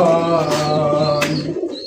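Pigeons coo steadily and close by at a pigeon farm, a low throaty warble that fades out near the end, with a few brief sharper chirps over it.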